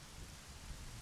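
Rain falling in the Zelda: Majora's Mask video game, a quiet, dense, even hiss of rainfall with a low rumble beneath it, steady and faint for about a second with no voices.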